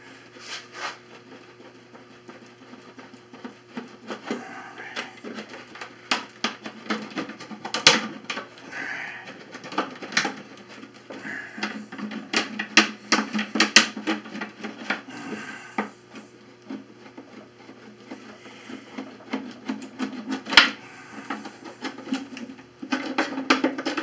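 The bottom of a container is cut off during a homemade ventilator build, with irregular crunching snips, clicks and scraping bursts that come and go at close range over a long stretch.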